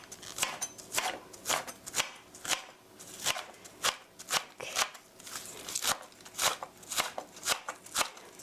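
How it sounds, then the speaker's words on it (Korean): A knife slices green onion on a cutting board in a quick, steady series of crisp chops, close and fairly quiet, each cut a sharp tap with a short rasp, heard alone without talk. "송송송 썰어주세요."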